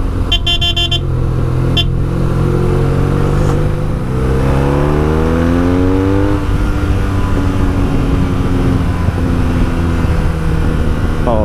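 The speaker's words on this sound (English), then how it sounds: "Oh, this bike sounds so good." A motorcycle heads through winding corners on a road across Italy. Its engine runs loud and close, the pitch rising and falling as the rider shifts and accelerates, and a horn toots briefly at the start.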